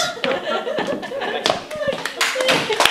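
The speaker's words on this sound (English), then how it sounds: "A round of applause for the Beach Sidekick, Tony Carlin!" A live comedy show audience breaks into steady applause and clapping that carries on through the whole stretch, with some laughter and voices mixed in.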